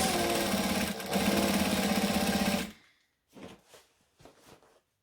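A domestic sewing machine stitching an ironing board cover runs in a steady close whirring drone for under three seconds, then stops, followed by a few faint handling clicks.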